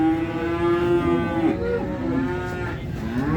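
Simmental bull cattle lowing at the Jetis Ponorogo cattle market in East Java, a long drawn-out moo with strong harmonics running nearly the whole time, followed by further overlapping calls from other cattle over a busy market hubbub.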